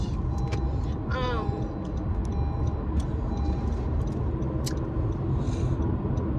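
Steady engine rumble and road noise from inside a moving car, a continuous low drone with faint ticking and a brief chirp rising over it, no talk.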